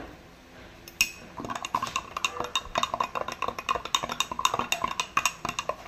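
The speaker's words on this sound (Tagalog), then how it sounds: "haluin natin mabuti" Barley drink mixture being stirred with a utensil, giving a steady run of quick metallic clinks and taps against the container, close and clear, with no talk.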